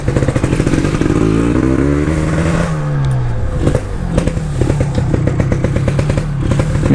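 A Yamaha RX King two-stroke motorcycle with its stock exhaust, heard from up close as it rides, with loud crackling revs and pitch sweeps as the rider shifts gears, then rapid popping engine pulses.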